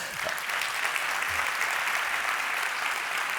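Steady audience applause fills a hall at a Slovenian award ceremony, sustained and even with no clear voices over it.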